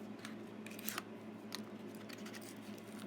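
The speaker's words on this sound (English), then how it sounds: "I'm going to open up these crackers" Faint crinkling and snipping as scissors cut open the plastic wrapper of a cracker packet from a humanitarian daily ration, a few sharp clicks over a low steady hum.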